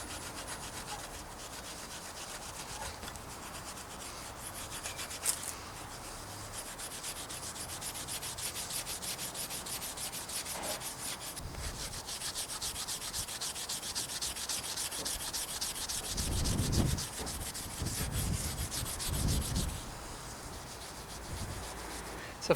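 Scratching rust off the frame of an old bicycle makes close, continuous rough rubbing and scraping strokes that grow harsher and louder toward the end.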